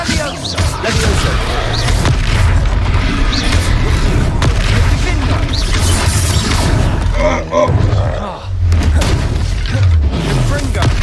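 Spell explosions from Confringo casts in the Hogwarts Legacy video game, loud booming blasts and thuds in a dense run of combat noise, with game voices talking over the action.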